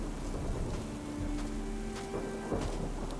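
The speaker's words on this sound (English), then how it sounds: "The thunder's not too loud." Soft thunder rumbles low beneath steady rain in a video game, with a few faint cracks and a continuous hiss of rainfall, all fairly quiet.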